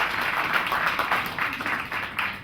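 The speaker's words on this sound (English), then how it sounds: "A round of applause for the 3 brand ambassadors who are here this evening." A crowd applauds brand ambassadors at the Huawei Mate 8 smartphone launch event in Harare, with dense, steady clapping that holds for the whole stretch without a break.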